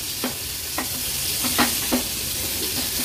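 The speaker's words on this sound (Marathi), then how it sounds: "अगदी अर्ध्या मिनिटासाठी हाय फ्लेमवर थोडे ह्याला आपण असे तेलामध्ये फक्त असे फ्राय करून घेऊया" Stuffed bombil fish rolls fry in oil on a high flame, a steady close sizzle broken by several soft spatula scrapes and taps against the pan, with no one talking.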